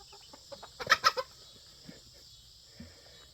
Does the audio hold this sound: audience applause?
no